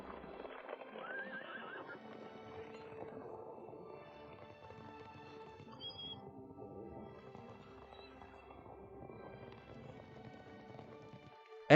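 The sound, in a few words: horse neighing, a dragon transformed into a horse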